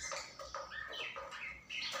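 Caged pet birds, lovebirds among them, squawk and chirp in quick repeated calls, close and fairly loud, with no talking.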